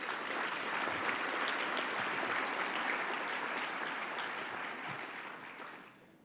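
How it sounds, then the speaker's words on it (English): Audience applause during a Long Beach mayor's speech, saluting the Port of Long Beach; a steady crowd of clapping hands at moderate loudness that holds, then tapers off toward the end. "Let's give the Port of Long Beach a round of applause."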